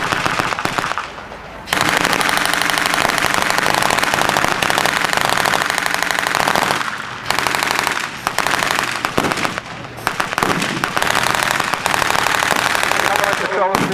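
Blank gunfire at a WWII battle reenactment between Allied and Axis forces: dense, loud bursts of rapid popping and cracking shots, near and continuous with brief lulls, mixed with crowd noise and voices.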